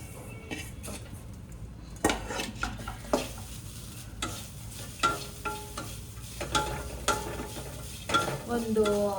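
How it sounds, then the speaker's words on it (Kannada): Grated coconut and masala frying in a pan for Mangalore-style chicken sukka, with a soft sizzle under repeated scraping and clinking stirs of a spoon against the pan, irregular and close, no talking. "ಸೊ ತೆಂಗಿನಕಾಯಿ, ನಾವು ತುರಿದಿಟ್ಟಿರೋ ತೆಂಗಿನಕಾಯಿ ಇದನ್ನು ಹಾಕೊಂಡು ಚೆನ್ನಾಗಿ ಫ್ರೈ ಮಾಡ್ಕೋಬೇಕು"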